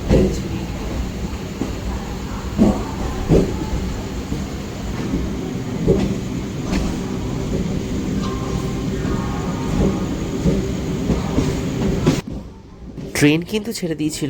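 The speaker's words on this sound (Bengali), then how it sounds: "ট্রেন কিন্তু ছেড়ে দিয়েছিল" A train departing Howrah station rumbles steadily with rhythmic rail clatter and occasional thumps, ending abruptly as a brief voice is heard.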